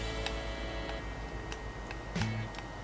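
A clock ticks in a slow, irregular series of sharp clicks over a steady hum, made as a sound effect for sound design, fairly faint and with no voices.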